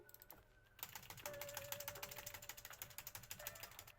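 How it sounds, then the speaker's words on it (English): Computer keyboard keys 1 and Enter being mashed rapidly on a Late 2006 iMac: a fast, dense run of faint clicking keystrokes that starts after a brief pause and continues steadily, with no voices. "I will keep mashing 1 and Enter."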